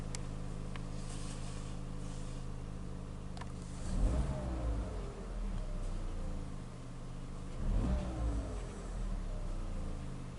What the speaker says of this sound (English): We're going to rev up the engine a little bit.